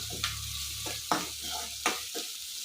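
Lengthwise-sliced onions fry in a pan for pudina rice, a close, even sizzle broken by about four sharp stirring scrapes at regular intervals.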